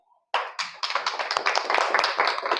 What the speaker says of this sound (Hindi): एक बार अपने लिए तालियां बजाओ